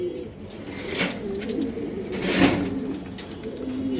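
Damascene pigeons coo at a farm, a soft repeated warbling coo with a louder call near the middle, fairly close over steady low background noise.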